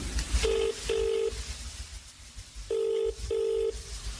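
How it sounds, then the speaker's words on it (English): Telephone tones on a call: two pairs of short, evenly pitched beeps separated by a pause, fairly faint over a low background hum. "he calls Margaret again, as he still can't find the house"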